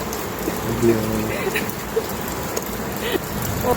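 Steady rain falls outdoors in a wide, even hiss with occasional louder drips and taps on surfaces, with no voices over it.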